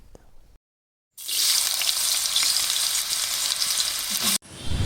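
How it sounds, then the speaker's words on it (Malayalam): Sunflower oil heats in a wok for chicken fried rice, a sudden loud sizzle and crackle that bursts in after a brief silence and holds steady close by before cutting off. "വീണ്ടും നമ്മൾ ആ ചീനച്ചട്ടിയിലേക്ക് കുറച്ച് സൺഫ്ലവർ ഓയിൽ ഒഴിച്ച് കൊടുക്കുന്നുണ്ട്."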